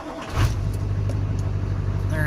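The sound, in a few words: car engine starting and idling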